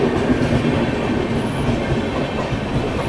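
Dibrugarh Rajdhani Express arriving at Ghaziabad station, a steady loud rumble of rolling coaches with rhythmic clickety-clack of wheels over rail joints throughout, with no voices.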